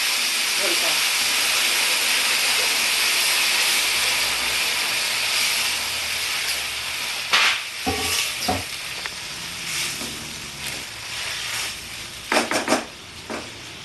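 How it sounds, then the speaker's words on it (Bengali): Hot water poured into a frying potato and bori (lentil dumpling) curry erupts in a loud, continuous steamy hiss that gradually settles into uneven bubbling and scattered clinks of a pot. "এবার আমি গরম জল করে রেখেছি থাকছে আমি গরম জল দেবো"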